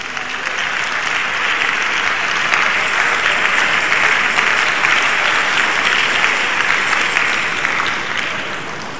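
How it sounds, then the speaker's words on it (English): A large audience at a pastor's birthday public lecture breaks into loud, dense, sustained applause that holds steady for several seconds, then tapers slightly near the end. "Another round of applause, please."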